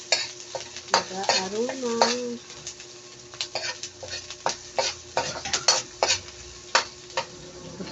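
Garlic sautéing in a pan while chicken with patola is cooked, a soft steady sizzle broken by frequent scraping and clinking stirs of a utensil against the pan, with brief speech near the start.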